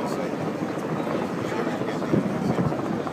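An Airbus A380 passes over the Farnborough airshow with a steady, broad jet roar that fills the whole stretch, swelling slightly near the end.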